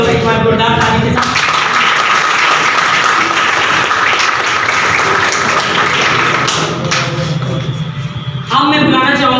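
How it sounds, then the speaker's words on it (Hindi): An audience at a ten-day workshop breaks into loud, sustained applause, a dense wash of clapping lasting several seconds, with a voice speaking before and after it. "मनोज बस सर को मैं बुलाना चाहूँगा एक बार जोरदार ताली के साथ।"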